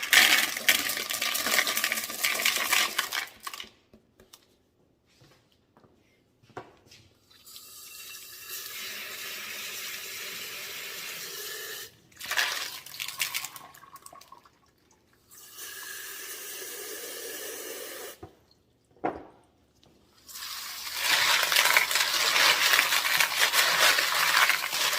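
Mexican crazy lace tumbling stones rinsed under a running tap after a borax wash, rattling and clinking against each other and the barrel in several long bursts of water, close and loud, with no speech.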